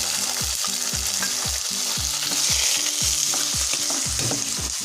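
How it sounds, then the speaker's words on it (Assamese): Red lentils (masoor dal) frying with browned onions in hot oil, a loud even sizzle over a regular, repeating rhythm of spatula strokes scraping the pan, close and uninterrupted. "ইয়াতে মই এতিয়া মচুৰ দালিখিনি দিম, মচুৰ দালিখিনি মই ভাজি ল'ম।"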